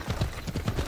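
Horse hooves clop in a quick galloping rhythm in Assassin's Creed Odyssey, a steady run of close, punchy thuds through the whole second with no talk.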